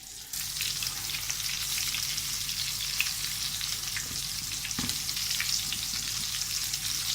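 Chicken pieces frying in hot oil in a pan, a loud, steady close-up sizzle that runs continuously with no talk.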